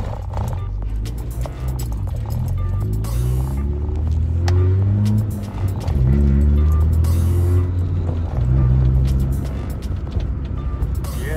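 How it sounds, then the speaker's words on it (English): Acura Integra DA being driven, a steady loud engine rumble with rising and falling revs through gear changes, alone without talk. "Finally driving the DA Integra after many countless headaches."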